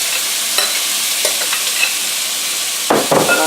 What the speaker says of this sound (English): we're going to saute the onions and tomatoes together